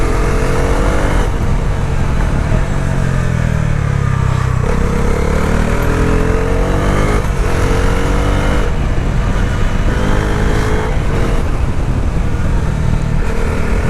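A 2025 Bajaj Dominar 400 motorcycle ridden on a mountain road, its engine droning loud and close throughout with gear-change dips and repeated rises in pitch under strong wind rush.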